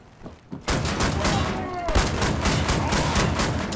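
Heavy shotgun blasts boom close and loud in a cramped room in Wolfenstein: The New Order, a dense run of shots with a whooshing tail, following a brief spoken exclamation.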